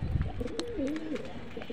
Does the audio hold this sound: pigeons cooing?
yes